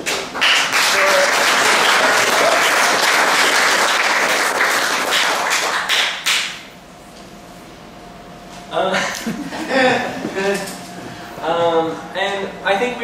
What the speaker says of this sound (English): I think we should give another round of applause for all of our readers